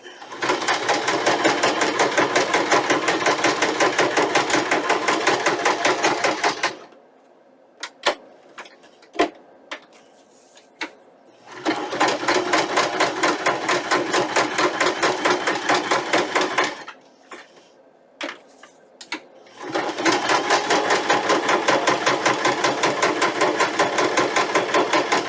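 A sewing machine stitches paper in three long rapid bursts, separated by quiet gaps with a few light clicks and taps.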